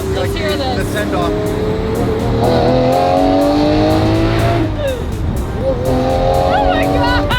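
Naturally aspirated 6.5-liter V12 of a Lamborghini Murcielago accelerating hard up an on-ramp, loud rising engine howl with gear changes and rhythmic revving sweeps, close and continuous, with excited voices speaking over it.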